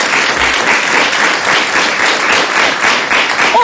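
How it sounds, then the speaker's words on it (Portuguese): Studio audience on a Portuguese afternoon TV talk show applauding a guest, a pediatric doctor, with dense sustained clapping from a crowd, loud and even throughout. "eu peço um grande aplauso para a doutora Sandra Afonso"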